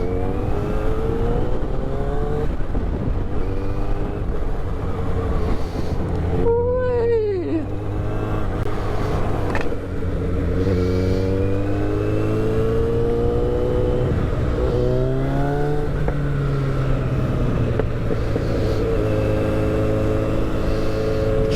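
A motorcycle engine revs and drones steadily while riding, its pitch rising and falling through gear changes with a sharp high whine near the middle, loud and continuous throughout.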